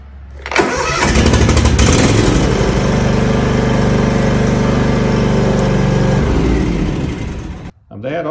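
A Cub Cadet riding mower's engine cranks and catches, then runs loud and steady for several seconds before cutting off near the end; close and prominent.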